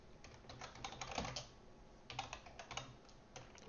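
Fast typing on a computer keyboard, with quiet clustered clicks of keystrokes in irregular bursts, close and alone without speech.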